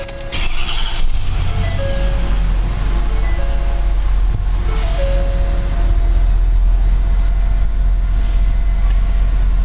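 A 2012 Ford F-250 Lariat diesel pickup engine runs with a loud, steady low rumble throughout, after a brief rougher burst at the start, with no talking.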